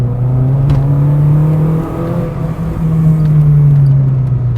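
A Renault Clio Williams engine revs hard in first gear, a loud, close, rising drone that dips briefly mid-way before climbing again.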